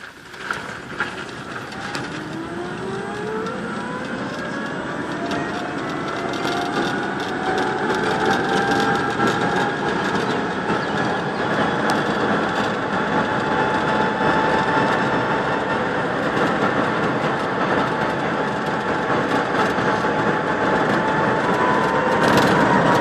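A Renault Twizy electric car with about 13,300 km and a service warning light on drives along, a steady rising whine over continuous road and cabin rumble that builds slightly as it speeds up, loud and close, no speech.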